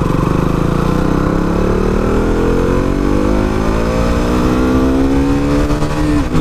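A KTM motorcycle engine drones loudly and close, its pitch climbing steadily as the bike accelerates through the revs, with no talking over it.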